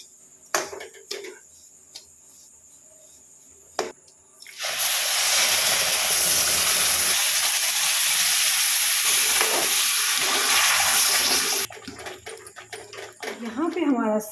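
Semolina roasting in ghee for sweet milk halwa, with a few soft clinks giving way to a loud, steady sizzling hiss that holds for several seconds before dropping back to quieter stirring sounds.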